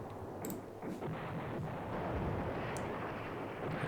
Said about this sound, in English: And now we'll bring on our artillery right there.